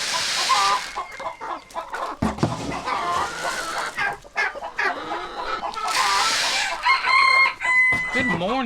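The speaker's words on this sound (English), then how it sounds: "that cream leg bar is a beautiful chicken" A Cream Legbar chicken clucks and crows in a backyard farm flock, with loud, close calls repeating over several seconds alongside other fowl sounds.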